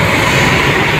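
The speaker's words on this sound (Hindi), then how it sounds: "ये जो ट्रेन जा रही" Train passing near Jaipur railway station, close by, in heavy rain: a loud, continuous rumble and rattle of rail cars over a brief stretch.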